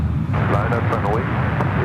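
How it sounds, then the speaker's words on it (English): An Emirates Airbus A380 airliner on the runway at San Francisco airport gives a low, broad engine rumble from a distance, heard under continuous close talking. "you're seeing an A380 lining up on 28 left"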